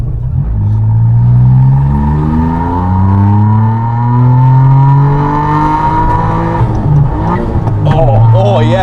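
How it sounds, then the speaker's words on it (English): A Suzuki Alto Works engine revs up through rising, loud, close tones, then drops off into rapid popping and crackling from the exhaust; a voice is heard near the end. "Pop, pop, pop. It's like a little rally car."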